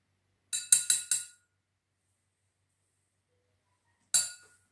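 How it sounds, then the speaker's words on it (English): A dry metal spoon taps the rim of a coffee cup four times in quick succession while whipped Dalgona coffee mixture goes on top, then one more clear clink follows after a pause. The taps are bright, close and isolated against silence. "Now we are going to put our mixture that we made to the cup on top with a dry spoon."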